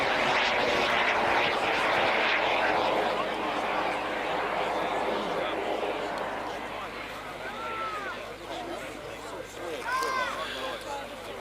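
A model Lightning jet making a high-speed right-to-left pass at a UK model air show, its loud broadband jet roar sweeping through steadily and easing off slightly, with crowd and commentary sounds beneath.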